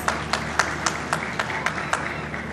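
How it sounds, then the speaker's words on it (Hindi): Hands clap in a quick, steady rhythm, about nine sharp claps in under three seconds, close and distinct over a low background hum. "हाँ, ताली बजा के दिखाओ।"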